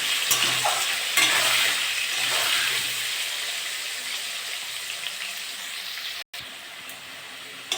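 Potatoes frying in oil with salt and turmeric for a chicken curry, a strong close sizzle with stirring scrapes early on, holding steady and then briefly cutting out near the end.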